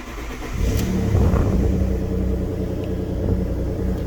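A car with an Alfa Romeo Busso V6 engine at 88,000 miles starts up and revs, a loud rumbling engine note that swells after a brief start and holds steady, alone with no talk.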